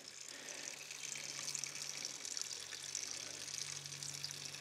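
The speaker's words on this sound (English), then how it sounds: "And now if I open this, all right, and that's just going to slowly drain here." Water drains slowly from a waterlogged ram pump pressure tank through an opened valve. It makes a steady, soft rushing hiss over a low constant hum, with no talking.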